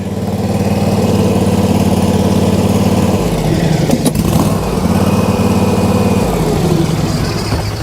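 A Kioti stand-on commercial lawn mower engine runs steadily and loud up close, a continuous droning hum with a slight shift in tone partway through and no talking.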